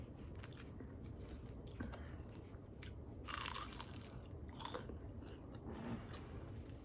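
Crunchy bites and chewing of cold celery, close up and fairly loud, a run of crisp crunches with a louder burst midway, no talking.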